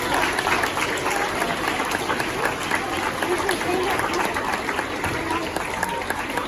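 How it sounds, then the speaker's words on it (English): School assembly audience gives a sustained round of clapping for the Sleeping Beauty production cast, a busy, even patter of many hands with some crowd murmur underneath. "Now let's give them a huge round of applause."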